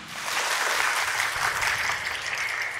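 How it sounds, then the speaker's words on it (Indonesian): Talk-show audience at a Ministry of Health event in Blitar applauds the two speakers, a short, even burst of clapping heard at a moderate distance. "Boleh dong saya mendengarkan tepuk tangan yang meriah untuk kedua narasumber kita hari ini."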